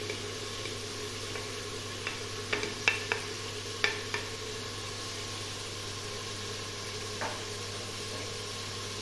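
Onion and garlic fry in a pot with a steady, soft sizzle, broken by a few light taps and clinks of stirring, with no talking.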